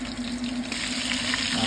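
Breaded chicken breast fries in a pan of hot oil with a steady, dense sizzle and crackle that holds constant, close up, with no voices.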